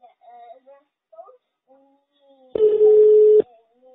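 A telephone redialing a number: a few short, scattered dial tones, then a loud, steady ringing tone lasting under a second.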